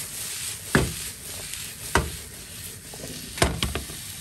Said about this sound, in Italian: Diamo una bella mescolata.